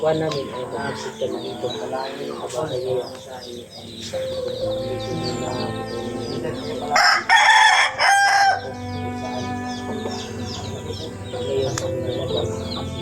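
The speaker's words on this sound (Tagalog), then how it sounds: "Dami pa lang manok ni Remart mga tol" Chickens cluck and chatter nearby while a rooster crows loudly once midway, over a low background hum and some talk.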